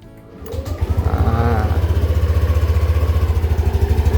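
A Yamaha Aerox scooter, a 2023 model with about 22,000 km, idles steadily up close with an even low throb and a deep, bassy exhaust note after it starts.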